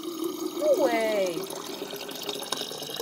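Water runs from a school drinking fountain: a steady, fairly soft gush of flowing water with a brief gurgling tone near the start and a voice speaking over it.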